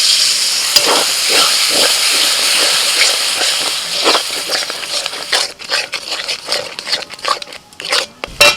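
Cashew, poppy seed and melon seed paste with a little water hits hot oil in a pan, giving a loud steady hiss and sizzle that breaks into uneven crackles and bubbling spurts as it settles.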